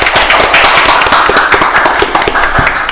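Audience applause for the winner of an illustration contest at a café event, a burst of close, crisp clapping from a small group filling the whole moment.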